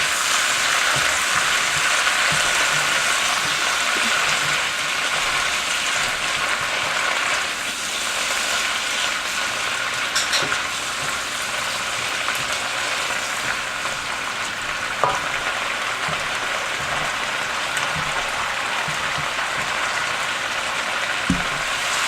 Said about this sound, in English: I'm just going to let this cook a little bit until the zucchini just starts to get a little bit soft